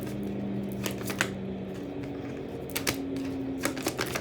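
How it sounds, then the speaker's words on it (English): Tarot cards being shuffled by hand, a run of soft papery riffles and taps at close range over a steady low background hum, with no talking. "Because I'm going to shuffle."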